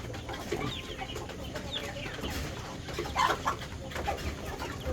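Healthy chicks squabbling over feed on a Philippine poultry farm make a busy mix of clucking and chirping, close and continuous, with a low background bustle and no clear talk.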